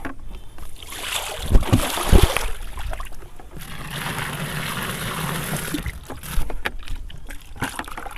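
Water gushes and pours steadily into a mix of treatment powder for a stinging catfish (shing) pond, several seconds of rushing, splashing flow with louder surges near the start and end.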